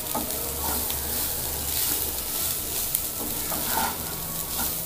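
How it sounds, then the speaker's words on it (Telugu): Coriander rice is stirred in a hot pan, a steady sizzle of frying under repeated scraping strokes of the spoon mixing the grains, close and continuous. "మెల్లగా బాగా మొత్తం కలిసిపోయేటట్టు కలిపెట్టుకోవాలి."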